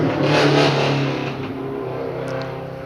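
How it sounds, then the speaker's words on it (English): A Subaru race car at the Legend of the Lakes hillclimb accelerates up the hill, its engine note climbing through rising harmonics, loudest early on and then easing as it moves off. "And Derek White and his Subaru's heading up that hill."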